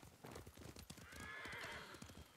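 A video game horse in Ghost of Tsushima gallops with steady clip-clop hoofbeats, then lets out a long, loud neigh midway, all fairly quiet overall.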